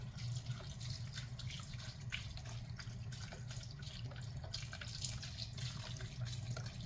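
Vegetable broth pours steadily from its container into a pot of split pea soup, a continuous close liquid gurgle and splash with no talking.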